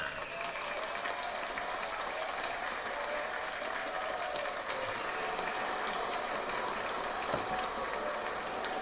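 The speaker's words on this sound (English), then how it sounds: "Round of applause for my Pippin." An audience applauds steadily and fairly faintly, with a dense, even clapping that holds for the whole stretch.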